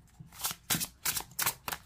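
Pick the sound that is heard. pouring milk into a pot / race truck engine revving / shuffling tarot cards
shuffling tarot cards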